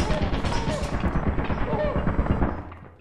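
Turret gunfire in the video game Lethal Company: a dense, continuous burst of rapid shots lasting about three seconds, loud and close, then tapering off at the end, with voices talking over it.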